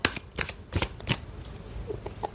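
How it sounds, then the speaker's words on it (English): Tarot cards being shuffled by hand, a series of crisp riffling bursts close up, followed by quieter light card taps and flicks with no voice. "So let's move to the tarot cards"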